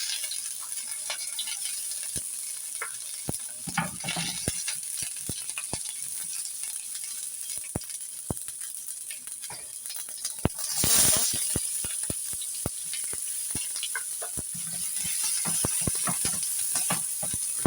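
Cumin, asafoetida, garlic and ginger sizzling in hot oil, a steady close hiss with light stirring clicks and rattles throughout.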